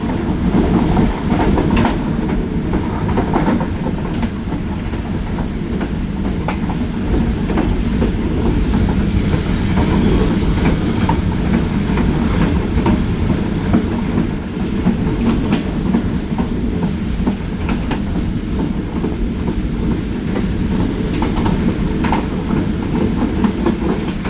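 The Musa Pak Express passenger train runs on rails toward Sahiwal station, heard from inside with a loud, continuous rumble and steady rhythmic clickety-clack of wheels over the track joints throughout, with no talking.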